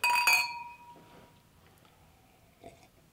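Glasses clink together in a celebratory toast, a bright cluster of clinks up front followed by quieter room noise and a faint late clink.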